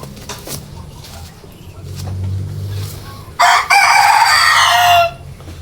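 An Elba breed rooster, shown as a breeder's chosen stud cock, lets out one loud, close crow of about two seconds that rises out of a quieter background of faint rustling and distant low noise.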